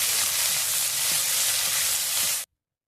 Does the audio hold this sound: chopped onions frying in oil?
yes